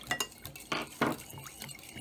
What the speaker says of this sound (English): we're going to give another stir.